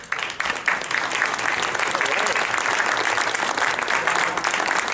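A room full of people breaks into steady applause, building quickly after a brief start and holding at an even, moderately loud level, with some murmuring voices mixed in.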